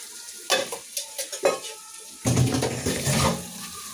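Green chillies and spices sauté in a pan with a close, continuous sizzle and bursts of stirring, first in short strokes and then in one longer stretch. No voices are heard.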